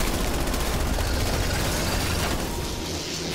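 Rapid automatic gunfire with heavy recoil from a weapon in Cold War Zombies, a dense, loud, continuous burst that fills the whole stretch before easing slightly at the end.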